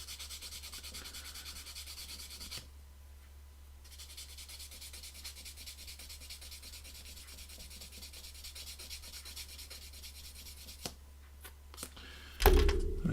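Steady close rubbing of sandpaper on a small model kit part, continuing for several seconds with a brief pause, ending in a louder thump.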